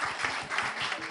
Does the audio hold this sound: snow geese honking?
no